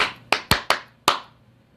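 Four sharp hand claps close together followed by a fifth a moment later, each a crisp, loud slap with a short decaying tail, with no talking.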